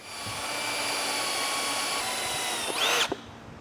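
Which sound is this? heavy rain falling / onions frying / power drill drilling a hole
power drill drilling a hole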